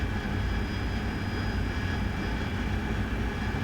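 An AV-8B Harrier jet in a flight simulation game flies low at night, its engine making a loud, continuous roaring drone that stays steady throughout.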